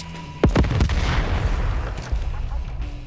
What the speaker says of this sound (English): fully charged nail gun